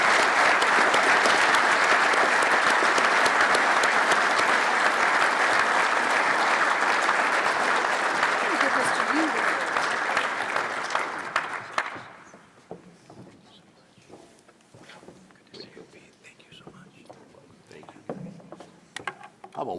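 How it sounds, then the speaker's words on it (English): An audience at a scout council centennial gala gives loud, sustained applause for about twelve seconds before it fades to scattered claps and room noise. "How about one more round of applause?"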